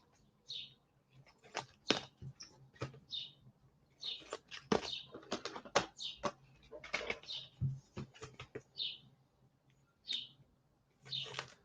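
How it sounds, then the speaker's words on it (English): Birds chirp outdoors in central New Jersey, faint scattered tweets and short calls coming in irregular bursts at a distance, with a few soft coos mixed in over a quiet background. "Got the birds chirping here today in central New Jersey."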